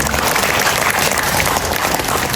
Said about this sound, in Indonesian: Kita beri tepuk tangan untuk mereka semua.